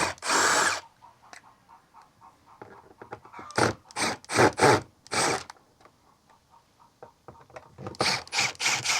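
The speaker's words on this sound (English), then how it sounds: "So I'm grab my trusty drill, take off the screws." A power drill whirs in short bursts close up, several quick spins with pauses between, removing screws from a Bass Tracker boat panel with brief clicks and rattles.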